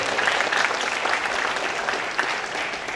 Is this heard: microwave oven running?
no